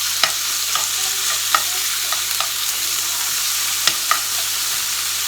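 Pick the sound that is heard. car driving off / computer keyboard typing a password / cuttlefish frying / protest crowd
cuttlefish frying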